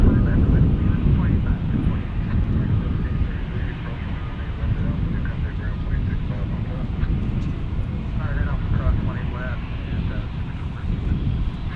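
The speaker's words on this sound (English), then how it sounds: "There's our A380 friend" Airbus A380 airliner at Dallas Fort Worth International Airport, a steady broadband jet roar that fills the whole stretch, with wind buffeting the microphone and a voice talking over it.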